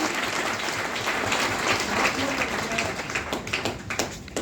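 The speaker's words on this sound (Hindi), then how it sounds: "ताली बजाओ, ताली बजाओ।" An audience breaks into sustained, dense applause, steady and fairly loud throughout, with a few sharper individual claps toward the end.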